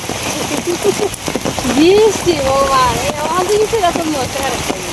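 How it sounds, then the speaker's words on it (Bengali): Heavy rain pouring steadily during a flood, a dense hiss on surfaces with people talking over it. "প্রচন্ড বৃষ্টি হইতেছে বৃষ্টির মধ্যে সীমা যাইতেছে"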